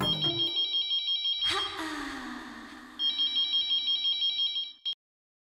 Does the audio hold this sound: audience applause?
no